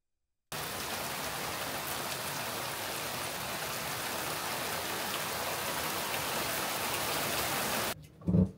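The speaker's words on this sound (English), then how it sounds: "it is raining hard outside" Heavy rain pours outside as a dense, steady hiss of drops that starts suddenly, holds evenly for several seconds and then cuts off, followed by a brief low thump.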